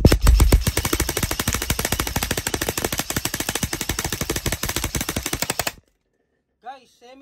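A Lancer Tactical 32BA7 airsoft gun fires on semi-auto in a very fast, loud stream of sharp shots, ending abruptly before a brief voice.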